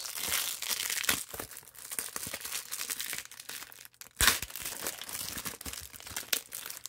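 Packaging for WandaVision steelbook concept cards is torn and opened, with continuous close crinkling and crumpling of wrapper and one sharper rip midway.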